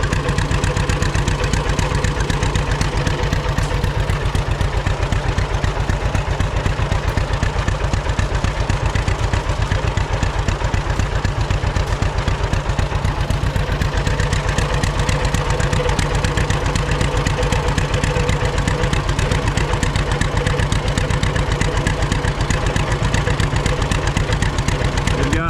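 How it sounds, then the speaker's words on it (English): An antique hit-and-miss gas engine at a threshermen's show runs with a steady, rapid mechanical chugging that continues without pause, close and fairly loud. "Looks like that's their gas engine, hit and miss engine building."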